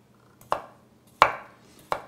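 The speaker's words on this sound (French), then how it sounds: "on va couper aussi les pommes de terre" A knife slices potatoes into rounds on a board for an Alsatian vintner's sausage salad, giving three sharp, close chopping thuds spaced about two-thirds of a second apart, each with a short scraping tail, with no talk.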